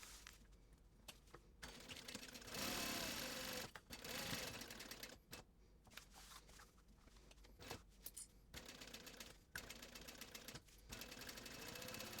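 A sewing machine bastes the sides of a backpack at a 1/8 inch seam allowance, running in several bursts of varying length with brief pauses between them, fairly loud and close.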